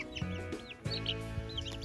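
Young chicks squabble over a slug, giving a couple of short, close clucking and peeping bursts over a steady background. The calls are harmonic and chirpy.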